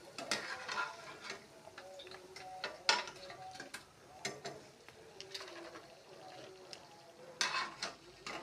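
Jalebi frying in hot oil for a birthday, heard as quiet crackling and scattered clicks and taps, close and faint, with soft intermittent sounds in the background.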